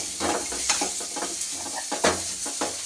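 Tomato, onion and garlic sautéing in a pan for a conch meat gravy: a close, continuous sizzle with repeated stirring scrapes and light clinks of a spoon against the pan, no voices.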